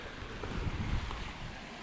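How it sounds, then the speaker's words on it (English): A big wave surges in on the incoming tide along a wild Scottish shoreline, a steady low rushing wash with a swell in the middle, mixed with some wind buffeting on the microphone. "See, there wasn't any waves for ages, and then all of a sudden there was that big one."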